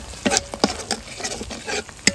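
Masala with curd, sugar, coriander and green chilli paste sizzles in oil for katla fish curry while a spoon stirs it in quick scraping strokes, close and alone.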